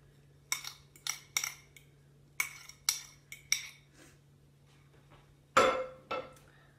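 Two beaten eggs and a quarter cup of milk stirred together in a bowl, heard as a run of light utensil clinks and taps against the bowl, ending in one louder clank.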